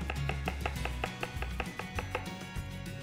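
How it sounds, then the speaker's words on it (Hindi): A knife finely chops purple cabbage on a cutting board with a quick, steady run of crisp taps, close and distinct, and no one speaks. "I have got some purple cabbage here, इसे भी इस्तेमाल करते हैं, इसे भी बारीक काटेंगे"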